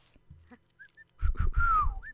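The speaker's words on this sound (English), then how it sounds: "Just whistling her way through her plants." A female Sims character in The Sims 4 whistles a short, bright tune while gardening among her plants, with faint game sounds before the melody comes in.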